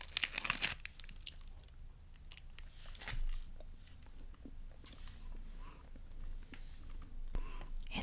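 Someone chewing white chocolate, with a crinkle of wrapper at the start, then quiet close crunching and mouth sounds in a soft, intimate setting; faint background noise throughout.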